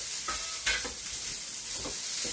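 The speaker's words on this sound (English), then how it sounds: "we're going to go in with the asparagus. And man, you hear that sizzle?" Asparagus sizzles steadily in a hot pan, a bright crackling hiss with a few soft scrapes of stirring, close and without talk.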